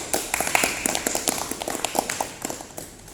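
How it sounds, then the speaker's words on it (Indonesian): A vocational classroom of students claps after a presentation on conventional brake system maintenance, a short burst of moderately close, uneven clapping that thins out toward the end. "Oke, tepuk tangan."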